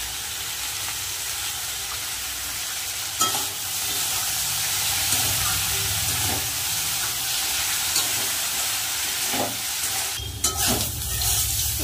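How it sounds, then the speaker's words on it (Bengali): Bitter gourd and potato fry in a pan with a steady, loud sizzle and hiss, broken by occasional scraping stirs and a few sharper clatters near the end. "উচ্ছে আলু ভাজা প্রায় হয়েছে"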